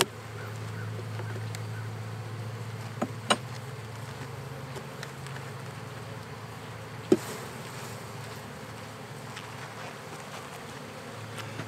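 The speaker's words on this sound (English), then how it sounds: "Still some bees on that one." Honey bees buzz steadily around comb-filled hive frames during a honey harvest, a continuous low drone with a few faint clicks and knocks of handling mixed in.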